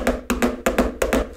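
Quick paired taps of a drumstick on a palm repeat in a fast, even rhythm of doubles, close and dull-sounding.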